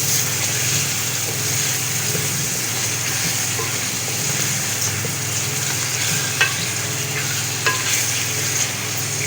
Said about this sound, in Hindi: इसको मैं इतना भूनूंगी ये थोड़ा इसकी स्मेल निकल जाए